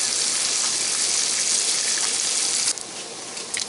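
Bacon browns until crispy in a pan beside smoked pork butt, giving a loud, dense, continuous sizzle that drops a little in level near the end but carries on with faint crackles.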